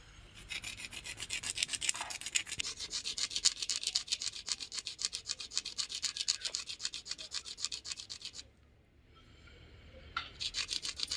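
Hard seeds being rubbed on a rough floor to help them open, a steady close scratching rasp in quick strokes that pauses briefly near the end and then resumes.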